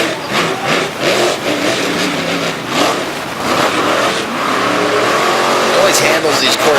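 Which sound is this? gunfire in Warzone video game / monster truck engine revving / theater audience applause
monster truck engine revving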